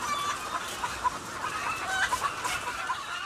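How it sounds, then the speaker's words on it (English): A crowd of hens in an egg-farm henhouse clucks continuously, many overlapping soft calls with a few louder squawks standing out against a dense background murmur. "the sound of happy chickens"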